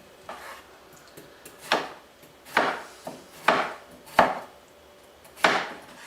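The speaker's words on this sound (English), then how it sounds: "So what we do is then we slice this, slices like this." A knife slicing vegetables on a cutting board for juice, six or seven crisp, evenly spaced chops up close, each a short woody knock, with no talking.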